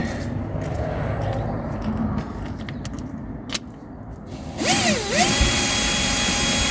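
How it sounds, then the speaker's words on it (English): A drill whirs in short bursts, then a short-bodied Bosch cordless drill spins up and runs steadily fitting mudflaps on a Ford Grand C-Max, its motor pitch dipping and rising under load, close by. "I'm using my dad's little Bosch drill, which is really good actually, because it's quite a short body drill"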